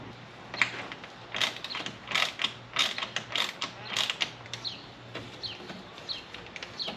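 Small screws driven into a front splitter lip during installation on a Pontiac GTO, a series of short ratcheting, clicking bursts from a hand tool at close range, with brief pauses between turns and no talking.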